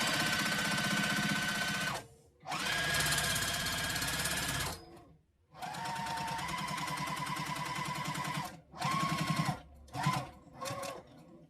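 A sewing machine stitches in the ditch along the seam of a quilted zipper case, running in steady rapid bursts with short pauses between runs and a few brief stop-start spurts near the end.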